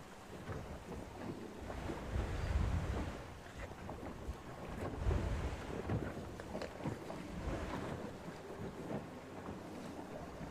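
A 52 Super Series sailing yacht racing at sea off Puerto Portals: wind buffets the microphone and water rushes and splashes against the hull in uneven gusts, with no talking.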